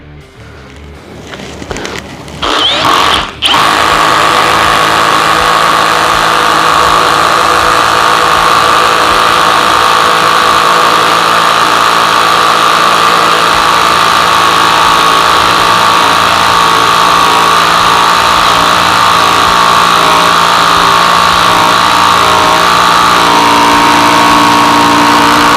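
Bosch GSB 185-LI cordless drill running steadily in gear 1, a loud continuous motor whine that starts after a brief rising spin-up and holds unbroken to the end, with no talk.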